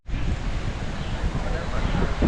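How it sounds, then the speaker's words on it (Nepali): Wind blowing at an outdoor picnic spot in Patan. A continuous, loud buffeting rumble hits the microphone throughout. "मजाको हावा चलिरहेको अवस्था छ"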